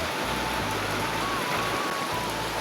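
Steady rain pours down at an outdoor picnic, a dense, even hiss of drops that fills the whole stretch without a break.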